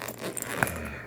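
A thick, rugged zipper on a Tumi bag is pulled in a short, close scrape with a sharper peak near the middle, heard on its own.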